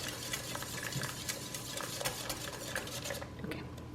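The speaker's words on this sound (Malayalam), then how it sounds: "എന്നിട്ട് ഇതെല്ലാം നന്നായിട്ടൊന്ന് ബീറ്റ് ചെയ്യാം" Egg and doughnut batter being beaten in a bowl make rapid, rhythmic tapping and scraping of a utensil against the sides, close and steady throughout, with no talk.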